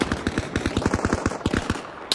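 Enemy gunfire in a video game, a rapid close burst of automatic shots in an even rhythm lasting about two seconds, heard without talk.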